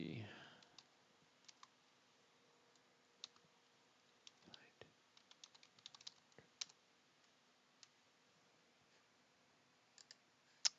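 Sparse, quiet keyboard clicks, single taps and short clusters of keystrokes scattered over a faint background hum, close to the microphone.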